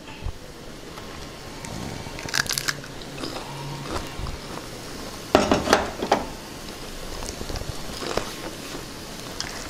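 Crunchy fried rice-flour chegodilu rings bitten and chewed close up, with a run of crisp, crackling bites and chewing that grows louder midway, with no talking.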